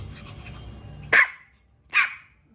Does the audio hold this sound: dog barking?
yes